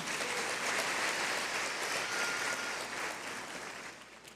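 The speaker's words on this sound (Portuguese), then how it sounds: "Você pode aplaudir Jesus por isso?" Church congregation applauding in praise during a sermon, a broad, steady roar of many hands clapping at a distance, easing slightly toward the end, with no voices over it.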